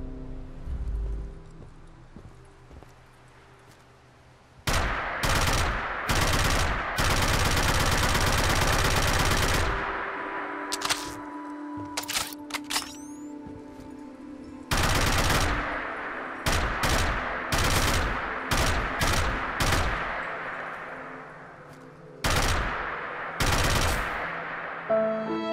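Bursts of AKE Volk rifle fire in Fallout 4, loud and close, with short rapid volleys and one sustained automatic stream, separated by brief pauses.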